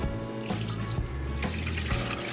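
Liquid, likely homemade nut milk, pours steadily into a container with a continuous watery splashing and trickling, close and fairly loud throughout.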